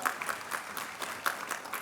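An audience at an awards ceremony claps steadily, a faint, dense patter of many hands heard at a distance without a break.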